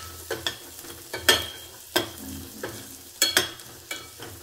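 Turmeric being stirred into a hot pan for a high-protein salad, with a spoon scraping and knocking in about a dozen sharp strokes over a soft sizzle, close and clear with no talking.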